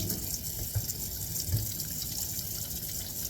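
Water runs steadily from a tap while hands are washed at a sink, a constant low splashing hiss with a few brief louder spatters, no talk over it.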